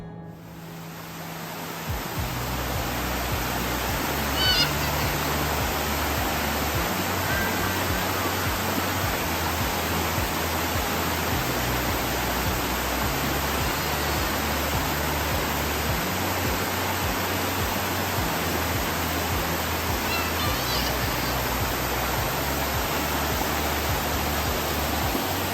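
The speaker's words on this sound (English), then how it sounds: "while we're exploring this waterfall" Waterfall in the Great Smoky Mountains, a constant dense roar of falling water that stays steady and loud throughout, close by, with no talk.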